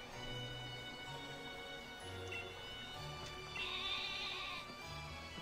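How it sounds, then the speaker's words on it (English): Sheep bleat in the farming town of Postwick in the video game Pokemon Sword, a few short quiet bleats over a soft, steady game background, with no talking. "that explains a lot of the sheep"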